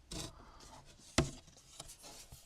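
A wooden board slides off red plastic guides while a 12 V cadet sailing boat's electrics are stripped down, giving a short scraping rub with one sharp knock in the middle and a few softer taps afterward.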